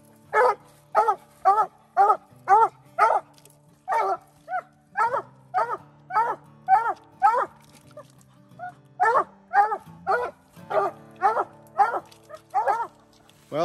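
A Bluetick Coonhound bays at a raccoon treed in a small wooded patch, giving loud, close, rhythmic barks in quick runs separated by brief pauses.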